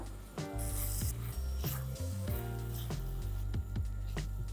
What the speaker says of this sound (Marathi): साधारण 1 छोटी वाटी चिंचेचा कोळ घालायचा आहे. चांगलं मिक्स करूया.